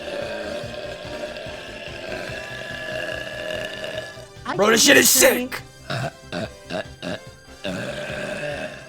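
A woman lets out a long, loud burp after drinking a fruity pink drink, followed by several shorter burps in a choppy series, with talking before and between them.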